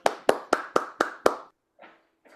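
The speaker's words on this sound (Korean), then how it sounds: "다 같이 박수로 환영하겠습니다." Congregation at a Korean Sunday church gathering claps to welcome a visiting pastor: six sharp, evenly spaced claps in unison, then silence with a couple of faint soft sounds.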